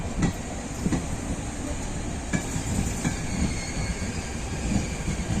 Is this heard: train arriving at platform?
yes